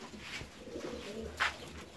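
Fancy ornamental pigeons coo softly in a loft, low throaty murmurs with a brief brighter call partway through, fairly faint over a quiet background hum.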